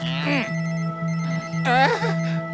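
A mobile phone ringtone plays a repeating electronic melody over a steady tone, with short sweeping synthetic flourishes.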